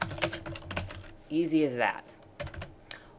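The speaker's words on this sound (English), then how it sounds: "And then I can just go into this field and start typing." Keys clatter on a computer keyboard while a blog post is typed into a web form, a short burst of quick taps between moments of someone talking.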